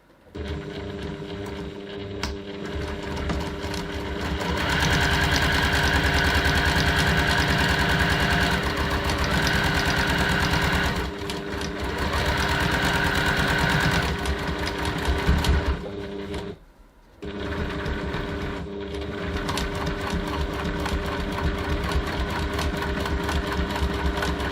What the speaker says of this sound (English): now I'm just going to base this top edge of our flap using a 1/4 of an inch